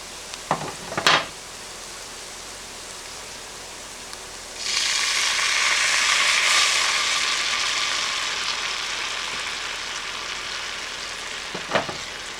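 Lemon juice and white wine hit a hot butter and garlic sauce, bursting into a loud, hissing sizzle that slowly fades, framed by brief clinks of utensils before and after.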